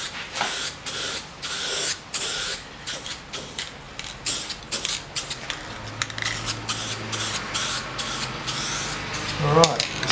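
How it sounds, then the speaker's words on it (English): An aerosol spray can hisses in a series of short bursts, then a few longer sprays while refinishing wood veneer, close by with quiet handling noises between. "spray it upside down for a few seconds"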